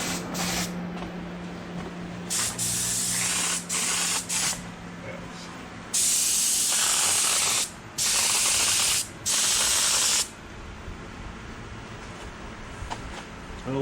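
A spray gun laying down House of Kolor black paint mixed with F20, in several loud hissing bursts of a second or so each, close up, with a voice talking in between.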